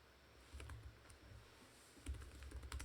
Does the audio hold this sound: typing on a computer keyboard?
yes